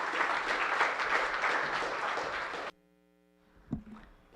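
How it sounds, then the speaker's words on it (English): Audience applause fills a launch event for the Greater Guyana Initiative's signature project, a dense steady clapping crowd for nearly three seconds before it cuts off abruptly to near silence, followed by a brief soft knock. "You can applaud again."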